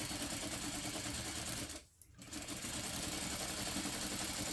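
A sewing machine bastes a quarter-inch seam around a fabric bag, whirring loudly and steadily up close, stopping briefly in the middle before running on again.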